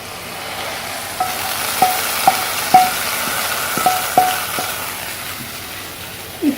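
Hot chili tempering sizzles steadily as it hits kadhi pakora curry, with a few sharp pops and spoon clinks scattered through the hiss.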